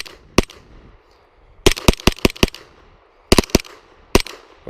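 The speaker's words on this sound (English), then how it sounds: "Oh, I got a little bump fire on that one." A PSA AKV 9mm fires at an outdoor range: a lone shot, then a quick bump-fired burst of about five cracks, another rapid pair and a final single shot, loud and close with short echoing tails.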